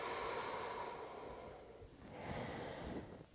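Heavy, steady breathing after a yoga exercise, close and continuous with long airy inhales and exhales and no talking.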